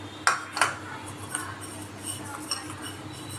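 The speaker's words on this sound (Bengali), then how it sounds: "এবার এর মধ্যে অল্প টক দই গায়ে মিশিয়ে নেবো একটুখানি" A spoon stirs a little sour curd into a clay pot for misti doi, with two sharp clinks against the pot followed by softer, lighter taps and scrapes.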